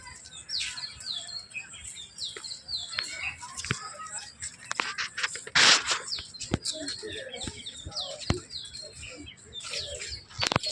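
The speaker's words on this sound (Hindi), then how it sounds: "कोयल की आवाज़ आ रही है ठीक सामने से" Outdoor birdsong at a riverside ghat in Varanasi, with an Asian koel calling from high in a tree among many busy chirps and tweets, plus scattered sharp clicks and a brief noisy burst mid-way.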